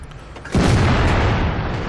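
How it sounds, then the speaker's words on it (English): A Jagdtiger Tier 9 German tank destroyer fires its cannon in World of Tanks, a single sudden, heavy boom that hits hard and then rumbles on loud and full through the rest of the moment. "He takes a blind shot there."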